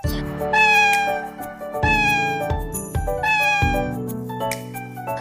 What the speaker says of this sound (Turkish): Arkadaşlar bunun adı Mia ve benim sesim bu şekilde çıkıyor